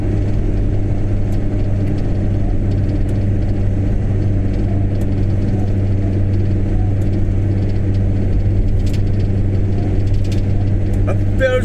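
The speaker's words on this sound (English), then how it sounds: "Got some trucks coming along there." Trucks on the M9 motorway rumble past in a steady low engine drone with a continuous traffic hum, moderately loud and unbroken, with no talk over it.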